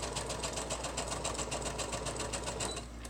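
Sewing machine stitches steadily along the edge of a paper journal page for a handmade Floriculture journal side tuck, a fast, even rhythmic whir with rapid needle pulses, close and continuous throughout.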